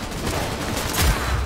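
Dense burst of rapid gunfire from the video game Cyberpunk 2077, loud and continuous with overlapping shots, no talking.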